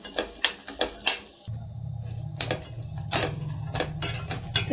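Dry fruits and pistachios roast in hot oil, giving sharp crackling pops and clinks close by over a steady low sizzle that builds after the first second.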